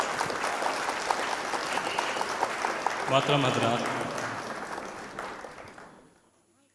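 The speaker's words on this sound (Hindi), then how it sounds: "आप ज़ोरदार तालियों से इस्तकबाल करें जनाब फेमस खतौलवी" Mushaira audience in Noida breaks into loud, dense applause welcoming the poet Famous Khataolvi, the clapping sustained and close, then fading out, with a voice speaking over it.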